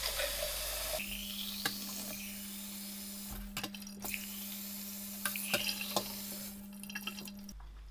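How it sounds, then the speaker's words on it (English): Hot tap water running into craft beer glasses with vinegar, a steady gushing stream with a constant low hum, interrupted by several sharp clinks and knocks of glass before the flow cuts off near the end. "fill them up with hot water and let soak for another 10 minutes"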